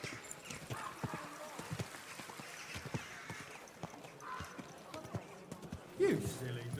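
Soft, uneven horse hoof clops patter along at a walking pace in the video game Kingdom Come: Deliverance II, faint and close, with a brief voice near the end.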